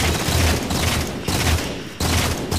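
Rapid bursts of Promethean Boltshot pistol fire in Halo 4 capture-the-flag gameplay, dense, loud booming shots in quick repeated volleys with brief gaps, mixed with other battle noise.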